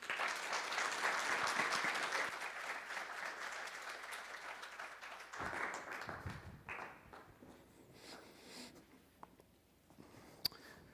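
Audience in a church applauding to welcome a guest speaker, a dense burst of clapping that tapers after about five seconds, leaving scattered claps and small knocks trailing off.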